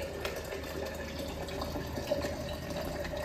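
Water from a submersible pump pours into a container in a steady, moderately loud stream with a constant splashing hiss and no voices.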